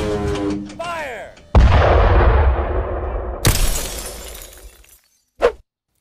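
Tank shell firing: a sudden heavy blast followed by a long rumbling decay, then a sharp second crack like shattering impact, and a brief final burst after a gap of silence; a voice speaks before the shot.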